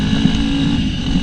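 A GPX FSE 250E dirt bike rides along a mountain trail at a relaxed pace, its engine a steady, close, continuous drone with a low throb and no break or rev change.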